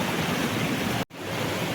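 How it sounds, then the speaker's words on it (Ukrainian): Rushing water of a stream near Annonay, France, fills the scene with a loud, close, steady broadband roar, interrupted by one very brief silent break partway through; no one speaks. "Почув просто шум води і вирішив спуститись."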